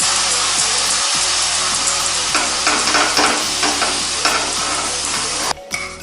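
A spoon stirs tamarind chutney made with sugar syrup, tamarind pulp and chilli powder in a pan, a steady scraping and sizzling rub with irregular strokes close by, and no voices.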